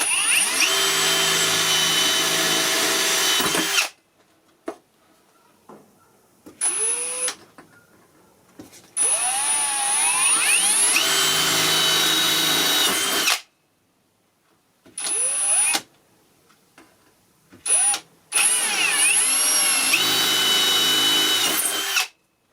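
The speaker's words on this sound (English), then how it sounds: "Take the drill, line it up on the divot" Power drill boring through a part of a homemade glass-fusing kiln, whining in several separate bursts of varying length with short silent pauses between them, loud and close with no talking.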